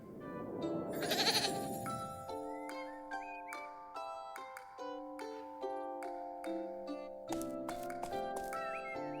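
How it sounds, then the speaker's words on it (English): A goat bleats in the Little Goody Two Shoes video game, a wavering cry at the start followed by bright chiming game tones and jingles. "Prepare for the most anime goat you've ever seen."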